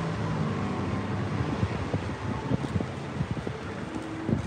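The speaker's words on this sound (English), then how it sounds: "And it's a bit windy" Wind blows steadily across the microphone outdoors on a sunny day, a constant rumbling rush with a few light bumps and rustles.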